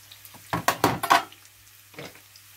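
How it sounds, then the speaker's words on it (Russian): Onion frying in a hot pan, with a burst of scraping and clattering as it is stirred, then a quieter pause and one more brief stir; the sizzle stays soft and close. "мы теперь добавляем лук и обжариваем"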